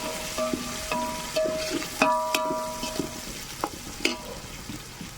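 Chopped tomato goes into a pan over a wood-fire stove, frying with a steady sizzle while a utensil stirs and clinks against the pan in sharp repeated knocks, close and alone without talk.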